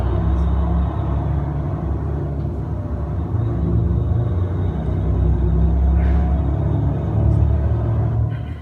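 A logging truck driving on a small country road: a loud, steady low engine and road rumble, heard from inside or close by, with a slight swell toward the end and no talking.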